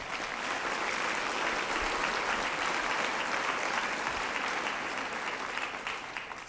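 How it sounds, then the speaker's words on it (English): Lecture hall audience applauding the host school at a special lecture event, a dense, steady wash of clapping that holds loudly throughout and tapers slightly at the end. "Round of applause for the school, please."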